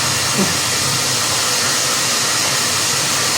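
Steady, close whoosh of a blow dryer aimed at a chicken, a loud unbroken airy hiss running throughout without voices.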